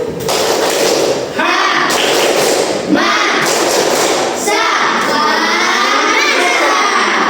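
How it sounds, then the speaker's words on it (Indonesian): A group performing the hamasa clapping chant during a teacher performance test session at an Indonesian Islamic university, loud and close, with rhythmic claps and shouted voices in bursts separated by short pauses. "yuk sama-sama kita tepuk hamasa"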